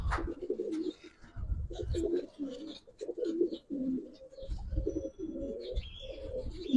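Pigeons coo in soft, throaty phrases broken by short pauses, fairly close and quiet, with faint chirps scattered through the recording.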